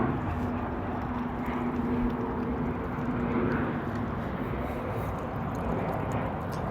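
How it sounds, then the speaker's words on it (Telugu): An airplane flying overhead makes a steady, broad roar that holds at an even level throughout, with no clear rise or fade. "అమ్మ ఫ్లైట్ పోతుందమ్మా, పోతావా?"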